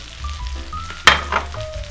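Chopped spinach hits a hot pan of buttered shrimp, sending up a sudden loud sizzle that flares briefly and then settles into a softer frying hiss.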